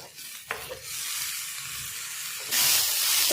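Steady sizzling hiss of onions and tomato sautéing in a hot pan, with a brief stir clatter early on; the sizzle swells louder near the end.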